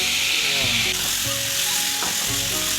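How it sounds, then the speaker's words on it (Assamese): Loud, continuous close sizzling as tomatoes and potatoes hit meat frying in a pan, with occasional stirring scrapes and no talk. "বিলাহী আলুখিনিও দি দিম মাংসত এড কৰি দিম"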